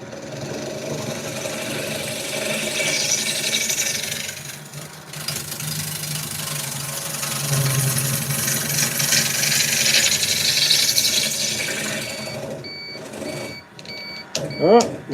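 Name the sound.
wood lathe spinning while turning a bowl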